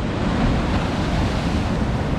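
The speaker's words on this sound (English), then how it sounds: "And waves are huge." Large sea waves crash on the shore at Whitley Bay on a cold, sunny day, a loud continuous roar of surf mixed with wind buffeting the microphone.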